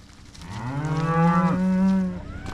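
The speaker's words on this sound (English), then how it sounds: "the neighbour up here's got heifers, so they're the ones calling out up there" Neighbouring heifers calling out on a farm, one long loud drawn-out moo rising and holding, fairly close and alone with a quiet outdoor background.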